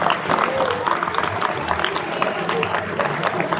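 At a school Indian languages festival, an audience claps to welcome staff onto the stage, a continuous moderate spatter of hands throughout, steady rather than swelling.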